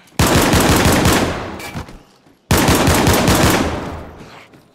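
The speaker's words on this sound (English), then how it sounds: "All those y'all's gunshots." Two long bursts of rapid automatic gunfire in the video game DayZ, loud and close, each rattling for about two seconds before trailing off, with a brief gap between.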